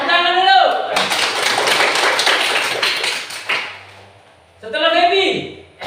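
Classroom students clap their hands together in a brief, loud round of applause lasting a few seconds, framed by a teacher talking before and after.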